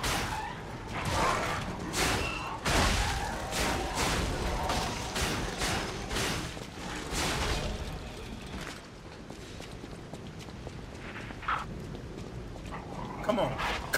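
Dog barking and whimpering in Lies of P, a video game: a run of loud, close barks early on, then quieter whines and yips, with someone talking over the game sound.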